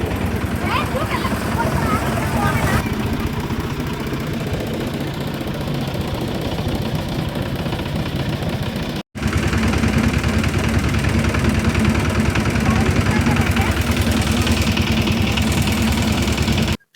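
A small wooden river boat on the Someshwari River runs its engine with a steady, loud mid-pitched drone, briefly cut once, while people talk over it.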